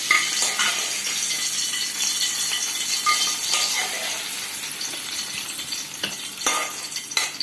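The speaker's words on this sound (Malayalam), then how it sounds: "അതിലേക്ക് നമുക്കിനി താളിച്ചൊഴിക്കാം" A hot tempering is poured into a Kerala-style prawn curry with cucumber and bursts into a loud, crackling sizzle, with stirring and a few metallic pan clinks throughout.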